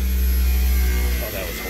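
A Daikin VRV inverter compressor strains near failure, giving off a loud, steady droning hum that wavers and shifts in tone toward the end.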